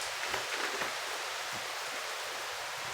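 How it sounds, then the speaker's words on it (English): Steady rain falls in South Florida, heard through open doors as a soft, even hiss with no voices over it. "I got my doors open. You can hear the rain."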